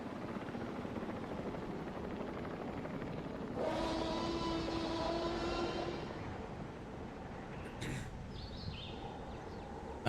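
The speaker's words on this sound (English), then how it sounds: "I love this monorail." A monorail train glides past in the video game Jurassic World Evolution 3, a soft whooshing rumble with a faint tonal whine that swells for a few seconds over quiet park ambience, then fades.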